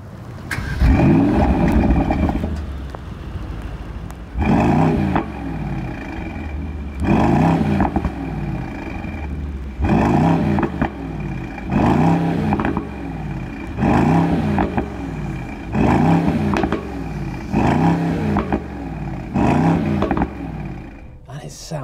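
A Mercedes SL 63 AMG V8 starting up and then revved repeatedly, a loud, close roar that flares up in about eight regular bursts, each dropping back between blips.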